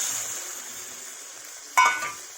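Water poured into a pan of frying spiced eggplant brings a sudden loud hiss and sizzle near the end, rising over the steady background frying sizzle and then slowly fading.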